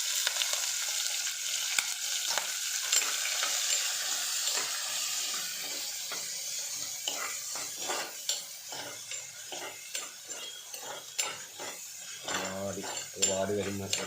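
Ginger, garlic and green chili fry in a pan for Kuttanadan duck curry, a steady close sizzle with frequent scraping and clinking of a spoon against the pot, and no voices.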